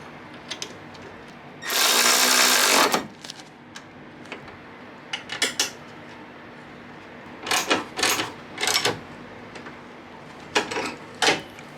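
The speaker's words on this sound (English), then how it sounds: "I gotta put these brackets on. One 10 mil bolt right here and one on the side." A ratchet tightens 10 mm bolts on the condenser brackets of a 2006 Honda CR-V: one long loud burst of clicking, then several short, close clicking runs separated by pauses.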